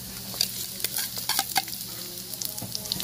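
Garlic and onion sauté in a pan for spicy halang halang chicken: a soft, continuous sizzle close by, broken by scattered scraping and clinking as a utensil stirs the pan.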